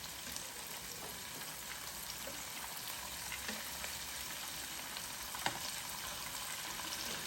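Shrimp egg rolls fry in hot oil with a steady, even sizzle and crackle that holds for the whole stretch, close and moderately loud, with no talk.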